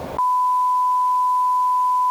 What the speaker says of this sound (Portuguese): Depois do bip.